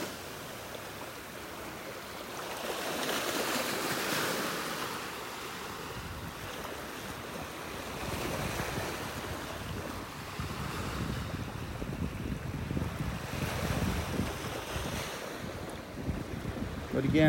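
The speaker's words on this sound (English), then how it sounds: "that's where these little waves are forming out there at the edge of the sandbar" Small waves breaking at the edge of a sandbar off a beach at a Gulf Coast state park in North Naples, Florida, a steady wash of surf with periodic swells, mixed with wind noise against the microphone.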